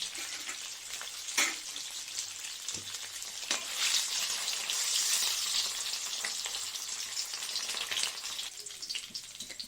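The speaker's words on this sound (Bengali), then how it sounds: "আমার কপিটা অনেকটাই ভাজা হয়ে গেছে" Cauliflower florets fry in a pan without salt or turmeric, giving a soft, continuous sizzle with occasional brief crackles and stirring noises at moderate distance.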